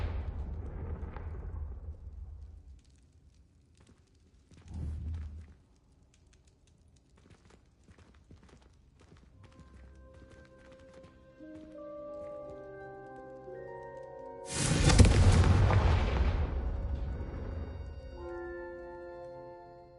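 Confringo spell explosions in the video game Hogwarts Adventures: a few separate booming blasts with quieter rumbling between them, and one large burst near the end that rings out into a tonal, shimmering tail.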